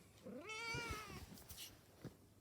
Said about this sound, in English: Oh, what's this cat doing where penguins live?